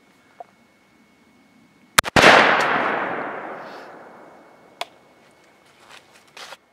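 A Stoeger M3000 semi-automatic shotgun fitted with a turkey choke fires one loud, sharp outdoor shot whose blast rolls off in a long fading echo, with a few small clicks and handling sounds around it.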